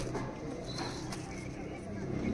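Kalduma pigeons coo in low, soft, repeated notes at close range, with a steady background murmur.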